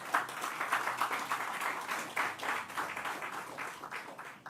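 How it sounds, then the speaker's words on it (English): A crowd at a school ribbon-cutting opening ceremony claps steadily for a few seconds, a dense patter of applause at moderate volume with no voices over it. "Let's give them a round of applause."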